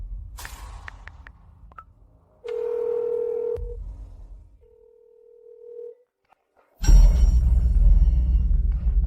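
A telephone dialing tone sounds while a call is placed: a loud steady tone, then a softer second stretch of the same tone after a short pause, with brief clattering noises before and louder rumbling noise after.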